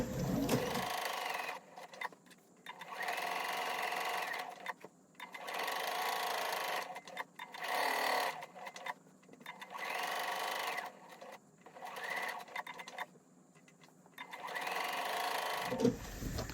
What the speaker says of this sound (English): I'm going to continue quilting down here